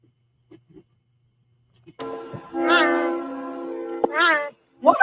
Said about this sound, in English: Let me see cheetah sounds.